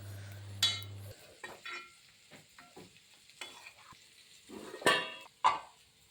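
Sliced onions with turmeric powder frying in a pan for a prawn roast, a quiet background sizzle broken by a few sharp stirring scrapes and clinks of a spoon against the pan.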